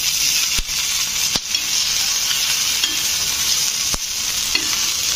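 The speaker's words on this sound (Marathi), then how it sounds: "थोडंसं तेल सोडायचं त्याच्यामध्ये. मिरचीला चांगलं चटचटी द्यायचं त्याच्यात." Green chillies fry in a little hot oil for a spicy mirchi kharda, giving a loud, close, steady sizzle and hiss with a few sharp cracks and pops along the way.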